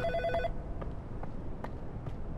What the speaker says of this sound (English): Phone call from hell again.